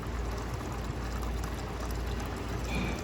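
Water being flushed through drink dispensers to rinse out cleaning solution, a steady broadband rush and splash of pouring liquid lasting the whole stretch, fairly loud and close with no talking.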